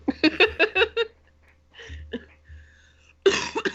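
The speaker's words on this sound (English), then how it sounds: "I have a terrible cough" A quick burst of several sharp coughs up close, followed by quieter throaty sounds and breaths, then another short rough fit of coughing.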